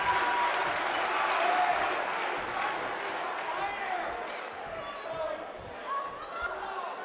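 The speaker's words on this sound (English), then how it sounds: "by the sound of this crowd" A large crowd in the wrestling video game WWE 2K19 roars and applauds steadily throughout, with an announcer-style voice talking over the noise.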